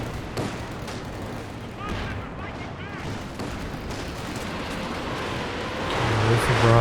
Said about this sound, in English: Heavy mortar strike coming down from the artillery officer.